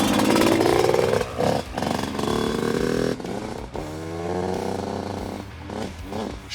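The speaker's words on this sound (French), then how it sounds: "On va démarrer la moto." A motocross motorcycle engine fires up close by, revving and sputtering with uneven bursts and mechanical clatter, alone without talk.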